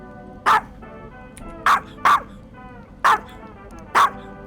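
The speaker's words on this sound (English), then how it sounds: "Lizzie, stop barking at the screen, please." A dog barks five times in sharp, loud bursts at irregular intervals, close by, over a low hum of game sound with no talking.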